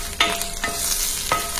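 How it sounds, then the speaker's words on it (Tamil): Mustard seeds, urad dal, asafoetida, curry leaves and chopped garlic sauté in hot oil for a Tamil rice dish, giving a steady crackling sizzle with a few sharp stirring scrapes, close and alone. "1/4 ஸ்பூன் கடுகு, 1/4 ஸ்பூன் உளுத்தம்பருப்பு, கொஞ்சமா பெருங்காயம், 1/2 கொத்து கருவேப்பிலை, பொடியா நறுக்கின பூண்டு இதெல்லாம் ஆட் பண்ணி நல்லா வதக்கி விட்டுருங்க."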